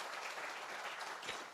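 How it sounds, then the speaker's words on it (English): Applause from an audience at a corporate anniversary celebration, dense steady clapping that fills the space at moderate level with no talk over it. "I think that calls for a round of applause"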